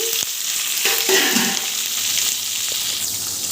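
Vegetables frying in a tempering pan for ridge gourd milk curry produce a loud, steady close-up sizzle, broken by a few light stirring knocks.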